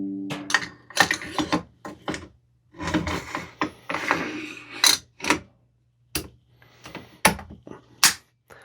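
A no-go gauge being installed in a rifle and the bolt worked, a series of sharp metallic clicks, slides and clacks close by, spaced irregularly with short silences between.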